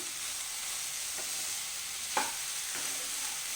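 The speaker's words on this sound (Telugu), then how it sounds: "ఈ పెసరపప్పు వేసుకున్న తర్వాత బాగా కలుపుకోవాలి" Moong dal is stirred in a cooking pan with a steady sizzling, frying hiss throughout and a few soft scrapes of the spoon against the pan.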